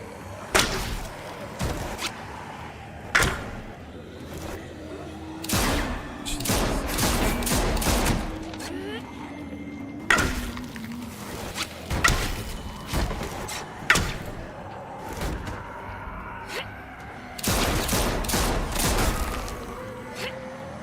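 Gunshots in The Walking Dead video game, fired from a five-shot weapon: sharp, loud cracks come one at a time and in quick clusters across the stretch, close by, over quiet ambience and faint game sounds.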